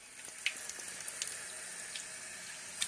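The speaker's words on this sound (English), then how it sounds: "First I'm going to rinse my salmon, and here we go." Tap water runs steadily into a kitchen sink while raw salmon is rinsed, a continuous hissing stream with a few brief splashes, fairly quiet and with no talking.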